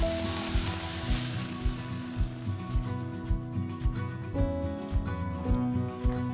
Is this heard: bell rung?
no